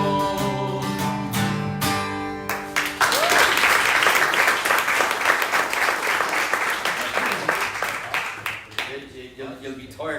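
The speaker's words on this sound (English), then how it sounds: "You'll be tired clapping" After a few seconds of music, an audience at a talk on Ireland's revolution bursts into steady applause that swells, holds, then thins toward the end, where speech resumes.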